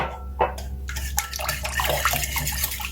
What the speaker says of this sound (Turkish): Yine bir su bardağının yarısı kadar sıvı yağım, ayçiçek yağı. Onu ilave ediyorum.